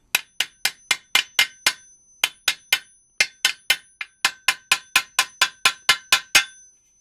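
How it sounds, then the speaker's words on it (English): A small hammer drives pieces down onto model train track in a rapid, steady run of crisp metallic taps, roughly twenty or more close strikes with a couple of brief pauses, loud and near. "you want to hammer them down about halfway"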